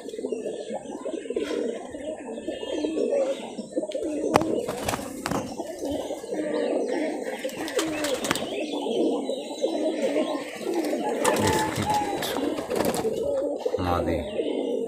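Rajshahi high flyer pigeons coo in a low, overlapping murmur throughout, close by, with occasional chirps and sharp knocks mixed in.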